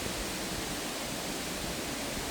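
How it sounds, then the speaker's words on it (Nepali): River rushing alongside a waterfall, a steady broadband roar of moving water, loud and continuous with no voices over it. "खोला र झर्नाको साउन्ड सुन्दाखेरि त मजा लाग्यो"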